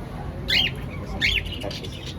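Pet cockatiel or lovebird gives two sharp, rising squawking calls in quick succession, close and fairly loud, with faint background noise.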